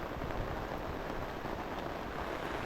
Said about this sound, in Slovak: A zase nám prší a zase nám prší.